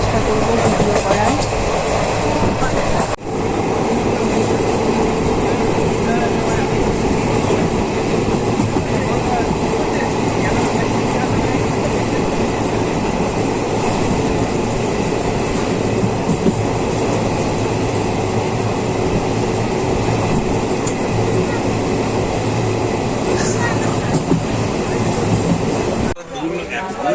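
A passenger train from Howrah to Bardhaman rumbles along steadily in a continuous loud roar with rhythmic wheel clatter, heard from inside the carriage with faint voices mixed in.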